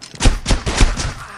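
Loud video game gunfire rings out in a burst of about five rapid shots over little more than a second, close and punchy.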